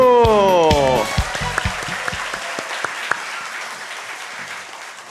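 A church congregation at a Wednesday worship service bursts into loud applause, fading into scattered claps over a few seconds after sung music ends.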